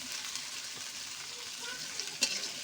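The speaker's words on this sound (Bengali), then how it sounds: "এটা পুরো ভাজা ভাবে নেড়ে দেবো।" Quiet sizzle of ghatkol (taro stems) frying with spices in a pan, a faint steady crackle with a brief scrape of stirring near the end.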